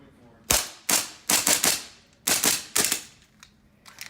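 An Army Armament 1911 gas airsoft pistol fires BBs: about seven sharp, close cracks, some in quick pairs, separated by short pauses in a quiet room.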